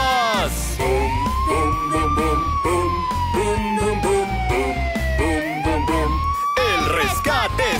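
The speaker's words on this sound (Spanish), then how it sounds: "Es una ambulancia muy audaz" A loud wailing cartoon ambulance siren from Tayo rises and falls steadily over busy children's music and other sounds, close and prominent throughout.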